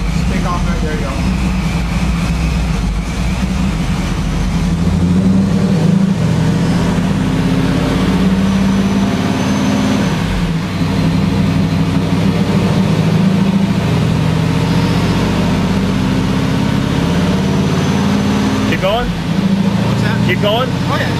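An LT1 Trans Am with a 7 PSI Procharger supercharger running on a dyno, its engine droning steadily at a loud, even pitch with a whine above it, while people talk over the noise.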